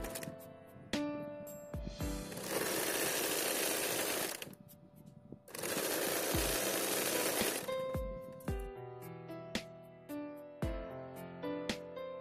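An electric sewing machine stitches fabric for a baby frock in two loud, steady runs of a few seconds each, with clicks, taps and handling of the machine before, between and after.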